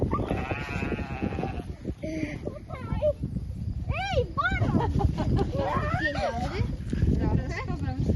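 Rams bleating repeatedly at a mini zoo, wavering calls rising and falling close by, with a dog whimpering and people talking over a steady outdoor background.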